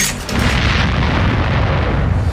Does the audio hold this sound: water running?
no